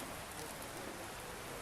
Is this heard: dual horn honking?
no